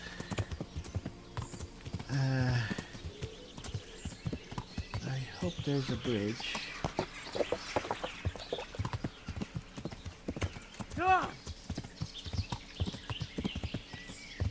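Horse hooves clip-clop in a steady walking rhythm in Kingdom Come: Deliverance, with a brief whinny, while someone talks over the top.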